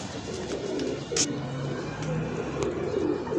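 Pigeons, a breeding pair of Kamagar Dab pigeons, coo softly in low, murmuring tones over a steady background hum, with a few faint chirps mixed in.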